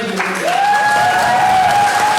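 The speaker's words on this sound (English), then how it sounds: "I'm sure you'll join me in giving a massive round of applause to the incredible" An audience at a community-building panel session applauds loudly and steadily, a dense wash of clapping with a sustained tone ringing through it.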